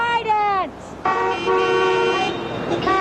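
Car horns honk in long sustained blasts near a protest over a Trident nuclear submarine, a first blast cutting off before a louder, longer honk that swells and breaks briefly, with voices faintly underneath.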